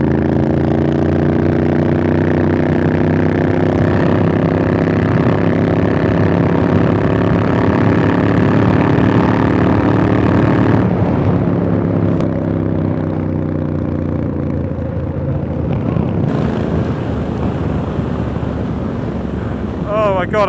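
Strong, buffeting wind roars loudly and continuously over a Triumph Street Scrambler motorcycle on the move, with the engine droning beneath it and shifting pitch partway through.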